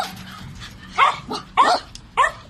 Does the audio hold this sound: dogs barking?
yes